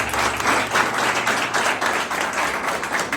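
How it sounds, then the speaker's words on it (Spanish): Steady audience applause at a community class on the 3Rs of reduce, reuse and recycle. It is a continuous, fairly loud burst of many hands clapping, lasting around three seconds. "Un aplauso para Chipi y para Freddy."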